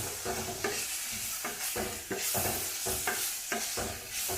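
Ridge gourd with coriander and curry leaves roasts in oil, giving a steady sizzle broken by regular scraping stirs about once a second. The sound is close and continuous, with no voices.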